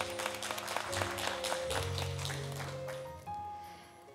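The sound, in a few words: audience applause for clergy at ceremony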